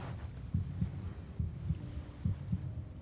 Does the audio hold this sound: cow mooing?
no